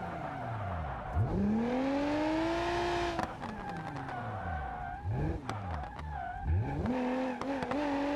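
Engine of a 350 drift car in the BeamNG driving game, revving hard through repeated rising and falling pitch sweeps while tires squeal and skid through mountain corners, loud and continuous with no talk.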